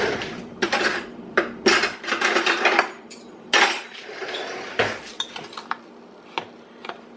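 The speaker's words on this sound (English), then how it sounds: "I'm just going to stir that together and mix that around" Cocoa and sugar stirred together for a creamy hot chocolate, a spoon scraping and clinking against the pot or bowl in irregular bursts of close, sharp taps and rustles, with no talking.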